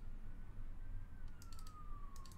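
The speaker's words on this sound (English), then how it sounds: "there's some sirens passing" Emergency vehicle sirens pass outside, a faint wailing tone that slowly falls in pitch over low rumbling background noise, with a few brief clicks near the end.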